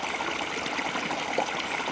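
Steady rushing trickle of water as a filter pump fills a hydration reservoir outdoors during winter camping in woods, constant and close with no pauses.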